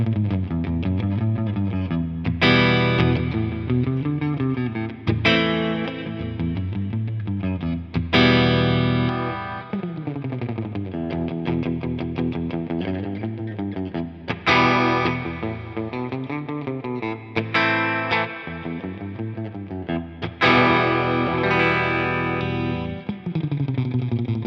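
Harley Benton Classic MR electric guitar, an affordable Mosrite copy, playing a clean tone with a chorus shimmer and a touch of reverb: ringing chords and picked runs, steady and full for the whole stretch, with no voices.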